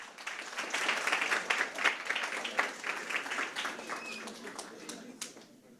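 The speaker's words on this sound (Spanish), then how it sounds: "Un aplauso, por favor." An audience at a university event on Peruvian video art applauds during a diploma presentation, a full, lively burst of clapping with some voices mixed in, tapering off near the end.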